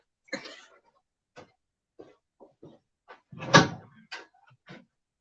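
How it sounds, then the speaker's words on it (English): A door closes with a soft thud midway through, set among scattered small knocks, clicks and brief rustles in a quiet indoor room. "Wait for the door to shut."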